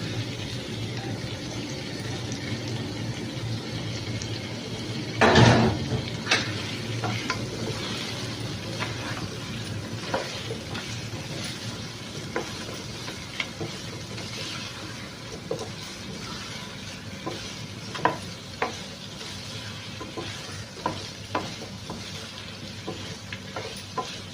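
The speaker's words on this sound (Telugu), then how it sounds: "ఇప్పుడు మనం ఇందులో చికెన్ వేసేసుకుంటాం" Chicken pieces drop into a hot pan for chicken pulao with a loud burst of sizzling, then steady frying and repeated scraping stir strokes continue alone near the microphone.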